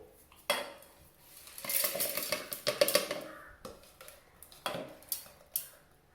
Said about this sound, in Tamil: இதை வேற பாத்திரத்தில் மாற்றிக்குவோம்